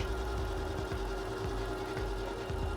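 A 2021 Ford F-150 XLT 4x4 with the 5.0 V8 idles steadily close by with a low, uneven puttering rumble and no talk over it.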